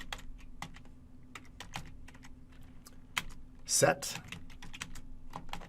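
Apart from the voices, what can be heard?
typing commands on a computer keyboard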